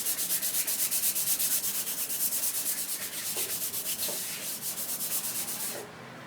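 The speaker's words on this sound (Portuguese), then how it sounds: "Como lixa? Assim. Sempre no mesmo sentido." Sandpaper rubs over a decoupage piece in quick, steady back-and-forth strokes in one direction, a close, continuous rhythmic scratching that stops abruptly at the end, with no talking.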